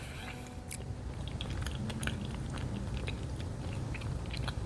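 Someone bites and chews deviled eggs topped with guacamole and a beef stick, with close, moist crunching and smacking in steady, continuous chewing and no talk.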